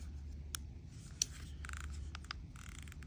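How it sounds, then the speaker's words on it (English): A series of small, sharp mechanical clicks from the spool tension knob of a KastKing Black Valiant Eagle II BFS fishing reel, at an uneven pace, close up and quiet against a low background hum. "Really nice loud audible clicking spool tension."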